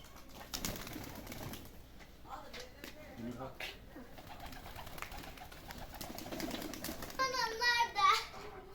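Çorum naked-neck pigeons of a pied breed coo in a loft, soft and repeated through the clip, under children and adults talking nearby, with a brighter burst of fluttering or calls near the end.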